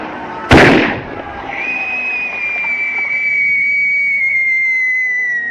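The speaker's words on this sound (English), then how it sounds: "There's somebody firing rockets." Rockets fired as a film sound effect: a sharp loud burst is followed by a long, steady rising whistle that holds for several seconds over a background rumble.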